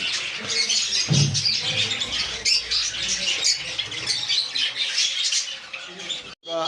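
Conures, lovebirds and cockatiels in a bird shop, a dense overlapping chorus of chirps and squawks, busy and fairly close, with a brief dropout near the end.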